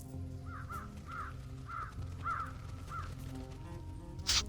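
Game birds in Truberbrook call out in a run of about six caw-like squawks, evenly spaced and moderately close, over a low steady background hum.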